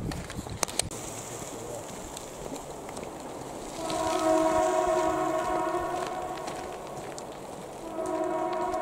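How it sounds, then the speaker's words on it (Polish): A passing train on the Hel Peninsula sounds its horn in long, loud blasts over a background of outdoor noise and rail rumble, the horn tones carrying on into the final seconds. "Jeżeli słyszycie te syreny, to jest właśnie pociąg, na który miałem zdążyć, a nie zdążyłem."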